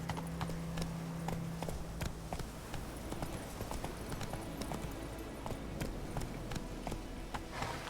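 Horse hooves gallop in rapid, steady clip-clop rhythm across the whole stretch, fairly loud and close, from a ridden horse in The Witcher 3: Wild Hunt, with game music faintly beneath.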